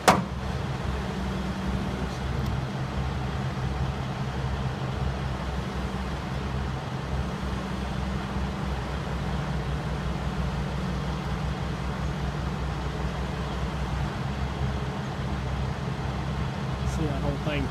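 A Link Belt 3400 Quantum excavator is driven off the side of a trailer, its tracks spinning as it unloads. A steady, fairly quiet low engine rumble runs throughout, continuous and without sharp changes.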